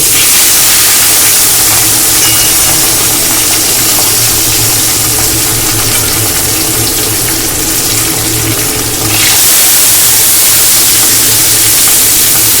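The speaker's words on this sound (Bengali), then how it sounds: "বাকি মাছগুলো কিন্তু আমি তেলে দিয়ে দিচ্ছি" Fish frying in hot oil makes a loud, continuous close-up sizzle that hisses steadily throughout, dipping briefly before surging again.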